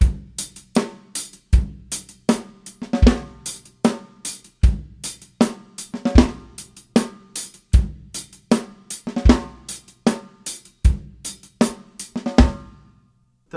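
Drum kit playing a steady repeating groove, with sharp regular hits on the snare and kick growing from quiet to louder strokes within each bar, close and clear with no talking over it.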